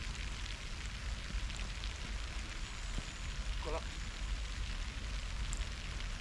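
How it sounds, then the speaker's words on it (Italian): Rain falls during a fishing outing for trout and sea bass, making a quiet, steady hiss with faint scattered patters and no clear speech. "Sotto la pioggia anche oggi"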